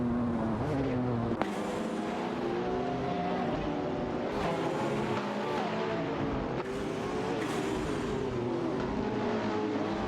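Radical RXC and McLaren 675 LT race cars battling in a racing video game, loud continuous engine roar with rising and falling revs, one car briefly swelling past near the start.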